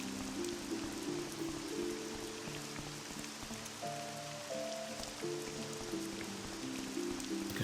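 Rain falling in the video game Morrowind, a steady hiss of drops with soft musical tones underneath, continuous and even throughout.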